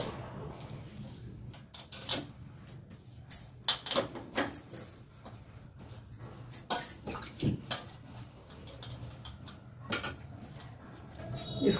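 Thekua dough for a Bihari sweet being covered and set aside, with a scatter of sharp metallic clinks and clatters from utensils and a lid over low kitchen background noise.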